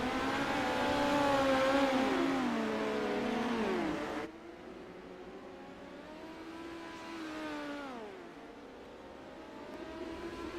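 Midget race cars practicing on a dirt track during a short warm-up before the feature, engines revving and rising in pitch as they pass, with a louder close pass followed by quieter cars further away.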